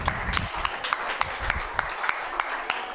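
A small audience at a BSTC test series award event claps, scattered individual hand claps standing out over a sparse, modest patter of applause.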